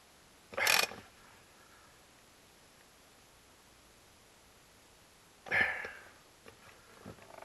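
A wrench works bolts on a compressor with a cracked block, giving two short, sharp bursts of metallic clicking and grinding several seconds apart against a quiet background.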